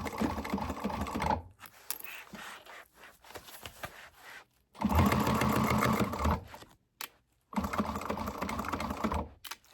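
Sewing machine stitches a base on a bag pattern in three loud, steady bursts separated by short pauses, the whirring needle close and clear with no talk.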